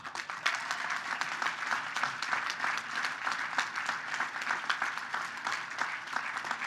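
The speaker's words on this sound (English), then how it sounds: "Round of applause." Dense, steady applause from a large audience at a gala, loud and continuous for several seconds with no pauses.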